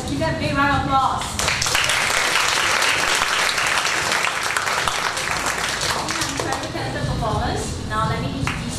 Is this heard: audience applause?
yes